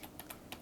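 Keys on a mechanical computer keyboard clack in a quick burst of about five soft strokes, close and faint, with no talk.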